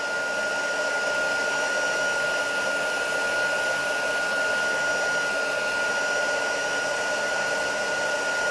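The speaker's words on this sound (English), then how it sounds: "you can just see the magic happening when you run the heat tool over the embossing powder" An electric craft heat tool blows hot air over embossing powder with a loud, steady whirring roar and a constant high whine, running continuously without a break and with no talk over it.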